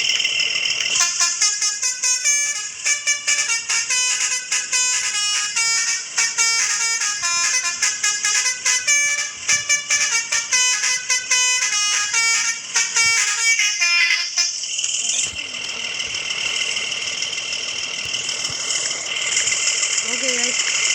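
Repeated bus horn honks in a video game, loud and sustained in a rhythmic series of blasts for most of the span, then giving way to steady engine and road noise.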